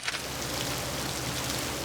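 Steady rain falls on a surface, a dense, even hiss of drops that fills the whole stretch without pause or voices.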